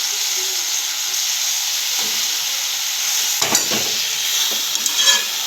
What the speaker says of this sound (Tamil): கருவேப்பிலை சேர்த்து ஒரு கிளறி விட்டுட்டு, புதினா, கொத்தமல்லி தழை எல்லாம் சேர்த்தாச்சு